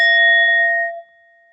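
A single bell is struck once, giving a clear bright ring with steady overtones that fades out over about a second, alone in silence.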